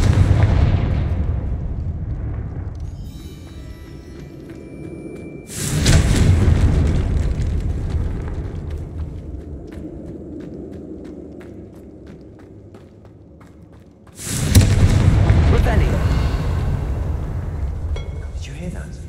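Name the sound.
Confringo fire spell explosions in Harry Potter video game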